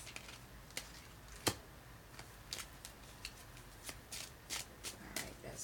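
Cards handled and drawn one at a time from a freshly shuffled deck in a quiet room, giving soft, scattered snaps and slides spaced irregularly across the clip, with one sharper flick near the start and no talking.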